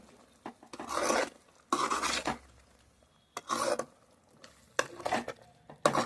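A spoon scrapes and stirs chicken curry with mint in a pot, in several separate bursts of rasping, clattering strokes with quiet pauses between them. Nobody speaks.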